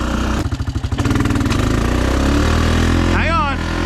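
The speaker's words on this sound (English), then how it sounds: "Bounce off that rev limiter." Honda Foreman 500 ATV engine, lifted, revving hard and stuttering against the rev limiter in rapid pulsing bursts, then holding a loud, close, steady drone, with a voice calling out briefly near the end.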